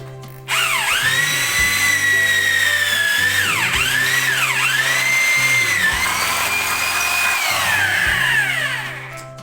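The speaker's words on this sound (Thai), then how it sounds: "นี่ก็มาเจาะเหล็กนะครับ เจาะเหล็กเจาะเหล็ก" A rotary hammer drill boring into steel, a loud close whine whose pitch sags several times as the bit bites, then winds down.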